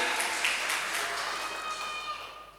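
A church congregation at a Pentecostal Sunday service claps in a broad, steady wash that gradually fades, with faint sustained tones ringing underneath.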